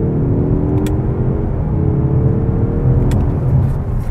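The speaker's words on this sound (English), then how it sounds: "When you do a 0 to 60 test in the Mazda 3 Turbo here, you quickly realize that it is geared for smoothness." A Mazda 3 Turbo pulls hard through a 0 to 60 run, its engine droning and rising steadily from inside the cabin, with a smooth shift partway through.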